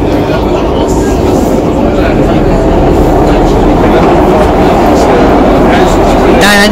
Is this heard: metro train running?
yes